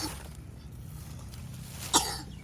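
A single short cough sounds once near the end, close by, in an outdoor family vegetable garden where cucumbers are being picked, with a steady low background hum around it.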